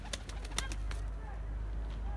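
Young pet birds flap back into an aviary, giving a few quick bursts of wingbeats close by, then faint calls over a low background hum.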